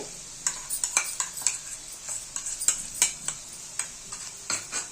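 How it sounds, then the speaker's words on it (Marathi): Crushed green chili thecha hitting hot oil for chivlichi bhaji, a bright sizzle broken by quick spatula clinks and scrapes against the pan in an uneven rhythm. "आता आपण हा ठेचा बारीक करून घेतलेला तो पण टाकून घेऊया तेलामध्ये"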